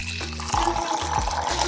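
A Nespresso Vertuo coffee machine runs its cleaning cycle, a steady close-up whir with pulsing low hum and water flowing through it, recurring in short surges.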